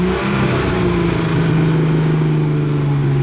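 Revving Nissan Skyline engine, close and loud, its pitch sweeping up and then easing back in one continuous pull.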